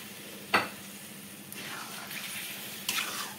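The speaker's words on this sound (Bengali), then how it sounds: "এভাবে নেড়ে নিচ্ছি একটু" A spoon stirs egg and potato masala with a little added water in a pan for egg biryani, giving two sharp scrapes against a soft steady simmering hiss, close and fairly quiet.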